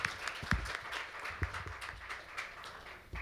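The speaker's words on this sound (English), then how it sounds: "Please welcome him with a warm round of applause." Audience at a forum's closing session applauds to welcome a speaker: a short, steady wash of clapping with a few sharper claps standing out, moderately loud, with no voices.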